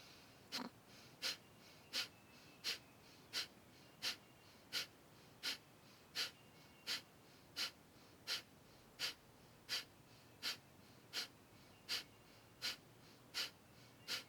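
Forceful rhythmic qigong breathing, the 'fanning the fire' exercise: about twenty sharp, evenly spaced exhalations roughly every 0.7 seconds, close and breathy, over a quiet background.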